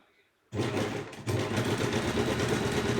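A sewing machine fitted with a zigzag foot, turned over by hand, gives a steady close mechanical whirring and clatter that starts abruptly after a brief quiet moment and runs on continuously.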